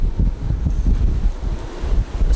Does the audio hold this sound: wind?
yes